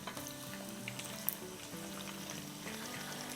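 Garlic and ginger paste, a tablespoon of each, fries in hot oil for a spinach chicken dish, giving a faint, continuous crackling sizzle with small pops.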